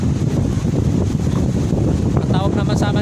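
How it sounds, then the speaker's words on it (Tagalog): Strong northeast amihan wind blowing at a seashore, a loud steady roar of wind buffeting the microphone with waves beneath, continuous throughout, with a voice speaking briefly toward the end. "Ang lakas ng hangin ngayon dito, amihan."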